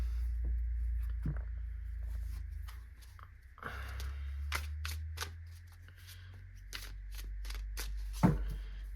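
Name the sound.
shuffling a deck of cards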